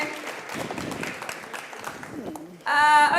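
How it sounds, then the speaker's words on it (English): Conference audience applause and murmuring voices fill a room, then a loud tonal musical sting cuts in near the end. "Give them a round of applause once again"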